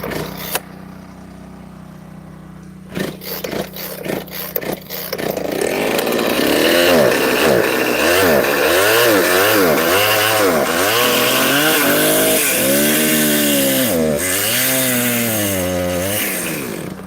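A chainsaw is pulled and started after a few rattling tugs, then revs in loud, close, wavering bursts and runs steadily, with no talk.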